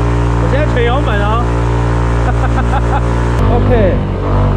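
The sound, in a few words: Yamaha SMAX scooter engine accelerating off-road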